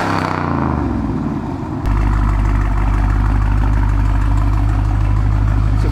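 Dodge Charger Scat Pack with a 392 cubic inch supercharged Hemi V8 idles close by, a loud, steady, deep rumble that settles in after a brief shift in tone near the start.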